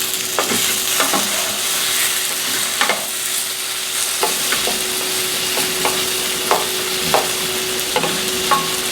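Tofu fries steadily in a hot pan, with a continuous bright sizzle and crackle and regular small pops and spatters close by. No voices.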